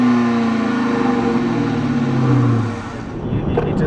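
2012 Dodge Challenger R/T HEMI V8 exhaust at a steady, fairly muted drone with a slight rise in pitch, then easing off and fading toward the end.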